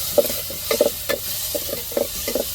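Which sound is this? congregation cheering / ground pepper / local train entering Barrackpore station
ground pepper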